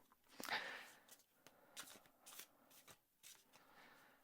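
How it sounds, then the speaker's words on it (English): Oracle cards being shuffled by hand at close range, a soft flurry of riffling and sliding card sounds in several short bursts with brief pauses, no talking. "I first want to shuffle the deck properly."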